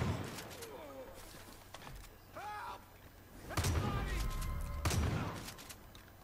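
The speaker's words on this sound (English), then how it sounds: "We're just going to go for it with a shotgun." Shotgun blasts in the video game Far Cry 5: two loud, sharp booms a second or so apart, each with a ringing tail, mixed with game chatter and effects.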